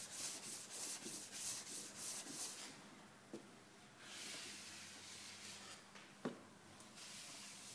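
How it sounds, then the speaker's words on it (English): By hand, sanding paper is rubbed back and forth over body putty in wet sanding, making a faint rhythmic rasping hiss with soft strokes and an occasional light knock, close and without talk. "We just move the sanding paper backwards and forward in order to perform the sanding."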